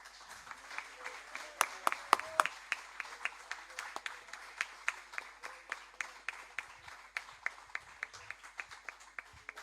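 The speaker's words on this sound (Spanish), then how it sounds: "le damos un aplauso al Señor por tu vida" A church congregation claps in a quiet hall, a sparse run of distinct handclaps that settles into a steady rhythmic beat, fairly faint and with no voices over it.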